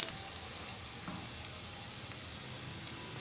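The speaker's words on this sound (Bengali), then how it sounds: "এইবারে লো হিটে, একদম লো হিটে বড়াগুলোকে আমি সেকে নেব।" Poppy seed fritters (posto bora) shallow-frying in oil over very low heat give off a soft, steady sizzle with faint crackles, close and continuous with no talking.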